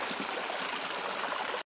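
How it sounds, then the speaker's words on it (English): White Sulphur Spring water in Thermopolis, Wyoming, pours steadily into the river, a dense, continuous rushing hiss with no pause until it cuts off abruptly near the end. "This is called White Sulphur Spring, and it flows right down into the river."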